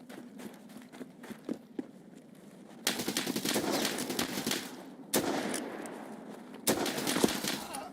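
Sustained bursts of automatic gunfire in a shooter game, loud and near, come in three long stretches separated by quieter gaps with scattered single shots and footsteps.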